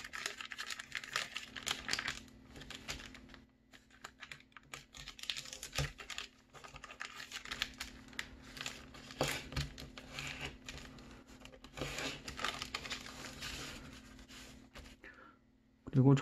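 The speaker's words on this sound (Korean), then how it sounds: "그리고 접은 부분과 가운데 부분 절반을 맞추어서 접어줍니다." Paper folded by hand for an origami gift box, with soft crinkling, creasing and rustling in short bursts between quiet gaps, close and gentle, while a voice talks over parts of it.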